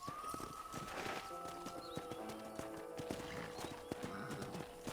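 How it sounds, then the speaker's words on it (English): Horse hooves clip-clopping during a ride in the video game Red Dead Redemption, a quick steady rhythm of hoofbeats with an occasional whinny over soft ambient game sound. "let's see if you can still ride a horse"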